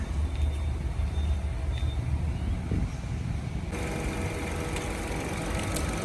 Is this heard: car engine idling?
yes